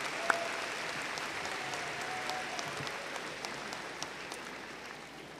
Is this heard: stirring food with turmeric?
no